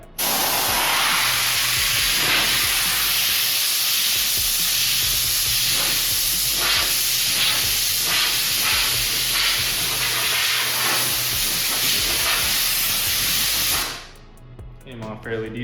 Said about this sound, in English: we're gonna simulate a pressure washer with some compressed air